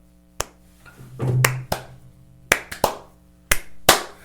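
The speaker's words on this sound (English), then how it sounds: "Did I start a slow clap?" Slow, spaced hand claps from a single person, about eight sharp claps at uneven intervals over four seconds, fairly close with a little room echo and no talking.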